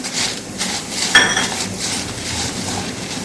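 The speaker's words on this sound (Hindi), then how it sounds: "इसका नमी खत्म हो जाए तब तक हमको इसको भूनना है।" Lentils, coriander seeds, red chillies and curry leaves dry-roasting in a pan for sambar masala, with continuous scraping and stirring and a bright metallic clink partway through, no voices.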